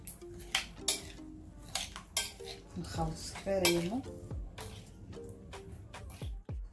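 Vegetables being tossed together in a dish for oven-baked sea bream, with repeated clinks and scrapes of a utensil against the dish in an irregular rhythm and a brief tonal squeak midway.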